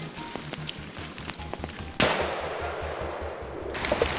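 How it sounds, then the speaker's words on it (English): Rapid bursts of gunfire in a forest, a dense crackling stream of shots under a low rumbling pulse, then a sudden louder, harsher wash of noise that holds steady to the end. "Bursts of gunfire echoed through the trees."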